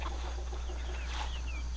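Several chickens in a 200-bird homestead flock cluck softly close by over a low, steady hum, with a few higher squawks mixed in.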